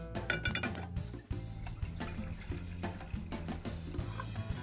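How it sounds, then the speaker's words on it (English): Water runs steadily into a metal pot for pasta, with occasional clinks and knocks of cookware close by. "We're going to start out with a pot of water for the pasta."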